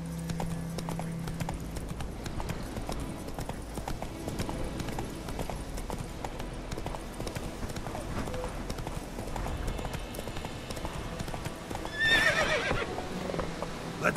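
Hooves of the horse Roach clip-clopping at speed in The Witcher 3, a steady galloping beat with occasional whinnies, mixed under game music and a voice talking.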